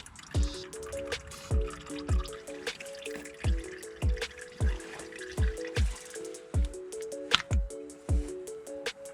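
Engine oil from a Toyota TRD 4Runner oil filter housing dripping steadily into a pan, close and fairly quiet, with a regular run of distinct drops at roughly half-second intervals and each drop giving a hollow, ringing plink.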